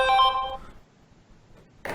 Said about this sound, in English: That was a loud phone call, and very distracting.